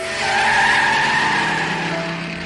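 A car pulls away with its tires skidding and squealing, a loud, sustained screech with engine roar that stays close and steady before easing slightly at the end.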